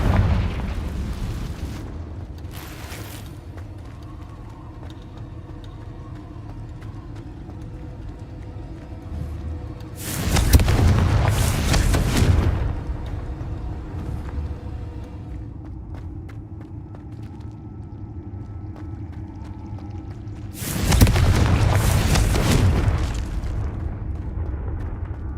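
Three loud, booming Confringo fire-spell explosions go off in Hogwarts Legacy, spaced about ten seconds apart, each a heavy burst that fades over a couple of seconds, with a low rumbling game background in between.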